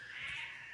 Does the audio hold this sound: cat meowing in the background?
yes